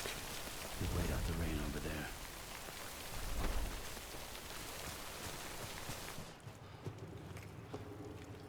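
Steady rain falls in the video game Death Stranding, a dense hiss across the whole clip with brief swells of heavier downpour, while a few muffled voice-like bits sit underneath and the wash thins out near the end.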